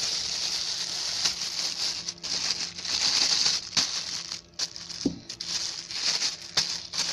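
Plastic bag crinkling and rustling steadily as air is pressed out of it while packing black raisins for the freezer, close and fairly quiet with a few sharper crackles, no talking.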